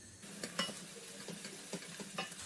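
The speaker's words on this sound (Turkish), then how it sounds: "Soğanlar şöyle biraz yumuşayana kadar bu şekilde pişiriyorum." Soft sizzling of onions frying in olive oil in a pan, with repeated light scraping and stirring taps over a steady low hiss.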